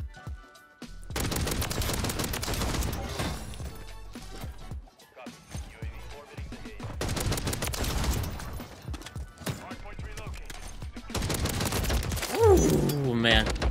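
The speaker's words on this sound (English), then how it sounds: "The SWAT Sidewinder LMG." The SWAT Sidewinder LMG from Call of Duty MW3 rips out long, sustained bursts of heavy automatic fire, loud and close, with short pauses between strings of shots and a voice talking over parts of it.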